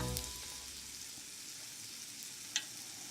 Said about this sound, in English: take a big heaping tablespoon of fritter and drop it into your hot oil